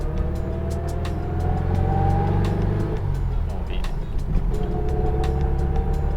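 A vintage Volkswagen Type 1 Beetle runs while driving, its air-cooled engine humming steadily with rising and falling pitch as it accelerates, close and continuous with faint road noise.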